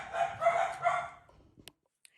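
Dogs bark in a burst of several loud, close yelps over about a second, then fade into a few faint, scattered clicks and near silence.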